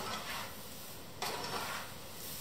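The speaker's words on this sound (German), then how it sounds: "Und das Ganze rösten wir jetzt mal an." Oat flakes and sugar roast in a frying pan as they are stirred, giving a soft continuous sizzle with scraping swishes and a brief louder scrape midway, heard without voices.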